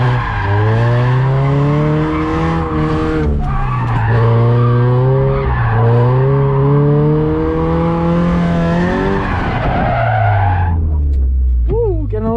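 Scion FR-S drifting at a drift event, a loud engine revving and rising and falling in pitch through continuous sliding with tire squeal up close, a brief screech near the end.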